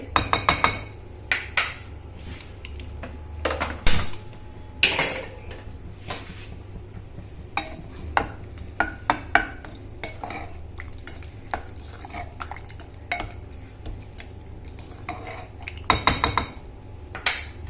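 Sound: mixing pav bhaji with coriander and butter in a pot

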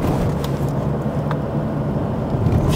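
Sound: car driving on Lincoln Drive

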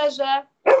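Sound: dog barking

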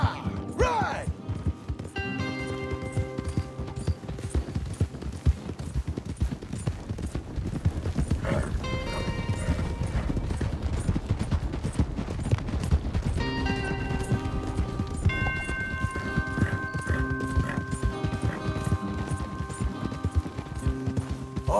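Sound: horses galloping in a video game

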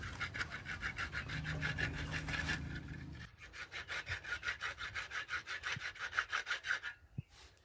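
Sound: scrubbing a horse's hoof clean with a brush

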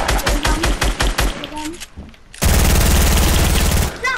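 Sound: submachine gun fire in a video game

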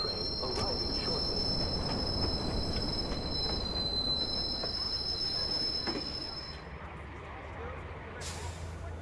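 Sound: train arriving at station in Watch Dogs video game

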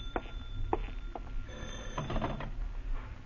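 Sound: telephone ringing

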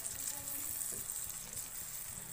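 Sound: frying spice paste (masala) for chicken

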